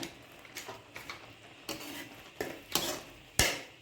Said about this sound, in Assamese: এতিয়া আমি আকৌ লৰাই থাকিম।